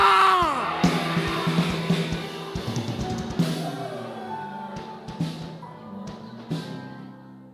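A church congregation at an evangelistic service shouts praise together in loud, sustained bursts that fade into echoing murmurs, with voices overlapping in a reverberant hall.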